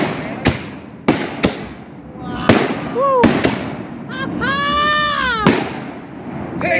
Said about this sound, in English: Gonna be watching fireworks.